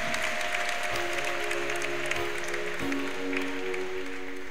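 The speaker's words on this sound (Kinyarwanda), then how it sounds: "Arakoze mu mumpera amashyi." Audience applause fills the room, a steady wash of clapping at even loudness from start to end, with a sustained musical tone running underneath.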